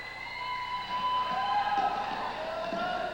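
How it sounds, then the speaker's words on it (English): A crowd cheers at a 1991 under-16 basketball final, a broad roar that swells in the middle and carries on throughout, with a commentator's voice faintly underneath. "The crowd is going nuts."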